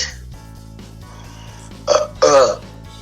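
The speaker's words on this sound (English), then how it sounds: "I burped" Two short, throaty burps come close together near the end, after a stretch of quiet room tone.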